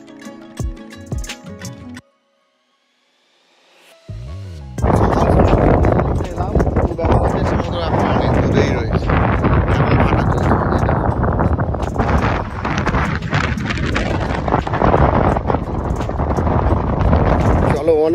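Strong sea wind at a beach roars steadily across the microphone for most of the clip, loud and close, after a brief quiet gap near the start.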